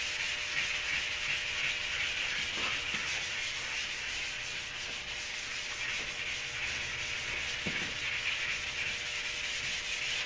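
Wet sanding of primer on a Duramax truck door with a sanding pad, a steady close rubbing hiss lasting throughout with a few faint knocks.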